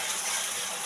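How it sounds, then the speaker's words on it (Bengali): Boal fish frying in oil over medium heat gives a soft, continuous sizzling hiss close by, with a brief louder crackle near the end. "আর একটু ভাজবো"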